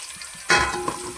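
Onions hit a hot pan and burst into a sudden loud sizzle after a brief quiet moment, followed by a sustained frying hiss with a faint clink.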